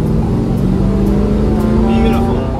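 A 1969 Dodge Charger Daytona wing car's V8 engine pulls steadily from inside the cabin, a low, sustained drone rising slightly as the transmission kicks down, with voices talking over it throughout.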